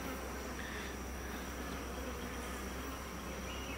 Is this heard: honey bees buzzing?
yes